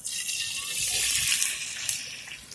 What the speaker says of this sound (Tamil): நம்ம ஏற்கனவே ரெடி பண்ணி வச்சிருந்த சாஸை இதுல ஊத்துறோம்